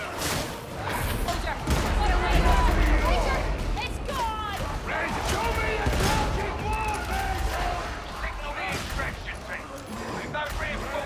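A scab gunner in Warhammer 40k: Darktide fires sustained, fairly loud bursts of gunfire amid game effects and voices talking throughout.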